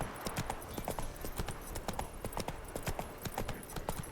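Roach, a horse in The Witcher 3, walking with a steady, quiet clip-clop of hooves in a gentle rhythm, fairly soft and close, with no one speaking.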